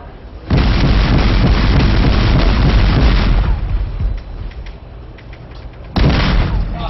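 A naval ship's weapon systems firing at sea, a loud sustained roaring blast lasting several seconds that fades into a rumbling tail before a second heavy burst breaks in.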